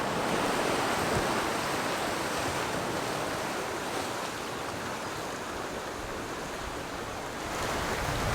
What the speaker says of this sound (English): as has been demonstrated by the ocean that has tried to sweep us into itself